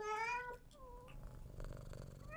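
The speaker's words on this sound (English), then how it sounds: "Oh, it's a cat!" A cartoon cat in the video game Bubble Cat gives a bright, drawn-out meow that slides downward, then a low, rumbling purr carries on close and clear.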